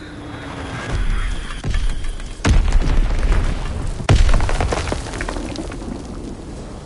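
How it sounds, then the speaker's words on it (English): Bomb explosions in a video game: a few sharp, heavy booms land seconds apart, each followed by crackling, splintering debris and rumble, with almost no talk. "Bomb incoming! Get to cover!"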